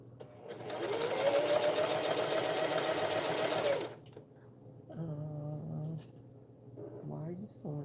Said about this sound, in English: Why are you sewing in place?